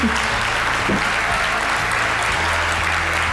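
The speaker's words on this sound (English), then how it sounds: "you're going to want to applaud" A crowd applauds steadily at a Helping Hands for Single Moms fundraising evening, the dense clapping loud and sustained from start to finish.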